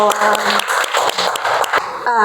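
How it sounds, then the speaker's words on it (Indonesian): Students in a classroom clap in quick, scattered bursts while a voice talks loudly over them, the clapping ending shortly before the close. "Tepuk tangan dulu untuk semuanya dong."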